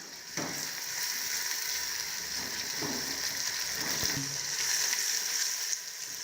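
Garlic and green chilies for an achari turnip curry fry in hot oil, a steady close sizzle running the whole time with a few soft scrapes and taps of a spoon, no voices.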